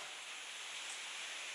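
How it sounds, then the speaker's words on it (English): Hard rain falls outside, a steady, even hiss of drops with no breaks, fairly faint and muffled as if heard from indoors, with no voices. "That's raining pretty hard outside."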